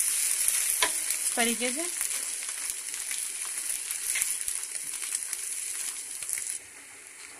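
A bread omelette frying in a pan gives a steady close sizzle with a few spatula scrapes and taps, and a brief short spoken remark early on. The sizzle drops sharply near the end.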